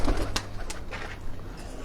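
Pigeons cooing at a pigeon keeper's loft in Havelian, with soft coos mixed with sharper bursts and background noise, near and fairly loud, and no clear speech.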